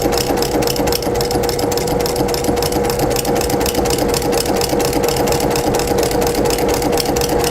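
A sewing machine stitches a baby comfort blanket at a fast, even pace, its motor humming loud and close with a rapid, regular needle pulse throughout.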